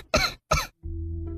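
A child coughs twice in quick, sharp bursts close by, then a low steady tone takes over.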